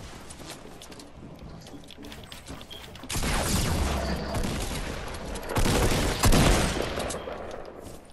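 Fortnite gunfire crackles in dense bursts, quieter at first and then jumping much louder and nearer partway through, with rapid overlapping shots and a loud spike of fire toward the end.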